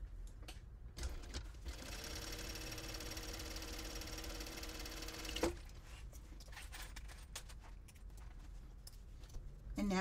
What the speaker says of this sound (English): let me baste it really quick